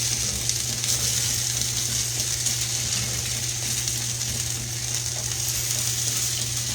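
Potato patties sizzle and fry in a pan on a gas stove, a steady crackling hiss that stays close and even throughout with no talking.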